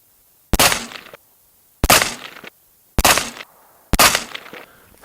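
Four loud, sharp gunshots from a pistol with a fluted Trident barrel, firing PMC X-Tac ammunition at a 50-yard range. The shots are evenly spaced about a second apart, each with a short ringing decay, and no talk is heard.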